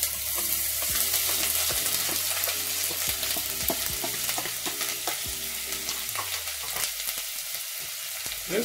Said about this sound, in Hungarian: És folyamatos keverés mellett fogom megpirítani.